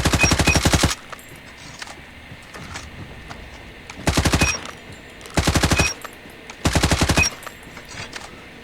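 CR-56 AMAX assault rifle firing in a ranked video game match, four rapid full-auto bursts of loud, close gunfire, each about half a second to a second long, separated by quieter game ambience.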